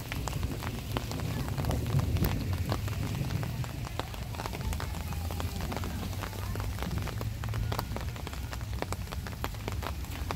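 Rain falls steadily in botanic gardens, a constant patter of drops on surfaces with scattered sharper taps close by, continuous and moderately loud.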